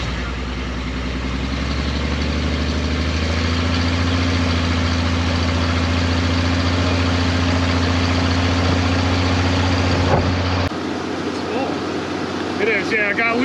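A 1974 Jeep CJ-5 with a 4.2-liter inline-6 engine runs with a loud, steady, low drone that deepens a few seconds in, then the sound cuts away near the end.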